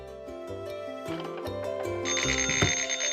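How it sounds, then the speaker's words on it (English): A telephone bell starts ringing about two-thirds of the way through, bright and insistent over a bouncy musical backing, with no voices. "the phone rang"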